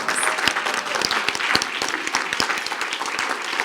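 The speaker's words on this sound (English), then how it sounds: "Let's give her a round of applause." Audience applause at a school district board meeting, a dense, steady patter of many hands clapping close by, with scattered sharper claps throughout and no talk over it.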